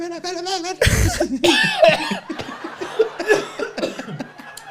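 A person coughs repeatedly in harsh bursts, with some laughter and vocal sounds mixed in.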